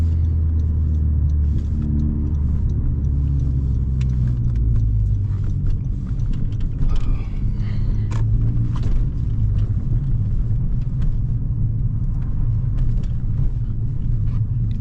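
A Honda Civic Si with a turbo engine pulls hard on a night drive, heard from inside as a loud, steady rumbling drone that builds in pitch across the stretch, with road roar underneath and no talking.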